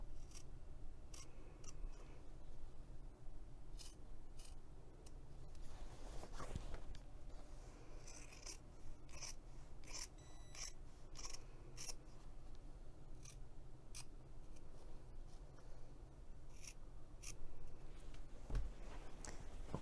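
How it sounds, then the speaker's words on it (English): Scissors cut through two layers of fabric for a messenger bag pocket, giving repeated crisp, close snips spaced irregularly through a quiet room, with a little handling rustle and no talking. "I'm going to use my scissors the rest of the way. So I'm cutting through both layers of fabric"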